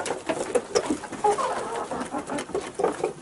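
Hens and a rooster cluck and murmur close by, a busy cluster of short soft calls with a few louder squawks, no talking.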